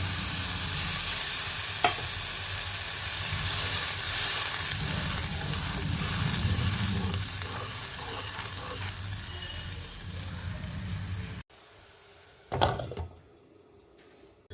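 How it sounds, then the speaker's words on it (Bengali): Fish curry gravy for rupchanda fish bubbles and sizzles steadily in a pan, a dense close hiss with faint stirring, then drops off near the end before a short clatter. "তো ঝোলটা ফুটে এসছে"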